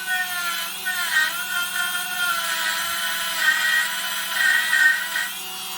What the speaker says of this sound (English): Here we are with the wire brush.